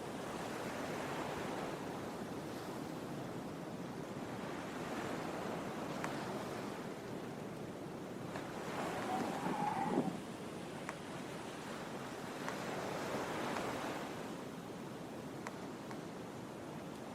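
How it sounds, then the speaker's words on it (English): Strong wind sweeps over open water in a broad, continuous roar with surf-like surges rising and falling, steady and fairly loud throughout. "The wind is strong and against you."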